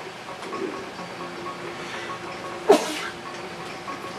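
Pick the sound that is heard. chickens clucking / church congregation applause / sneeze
sneeze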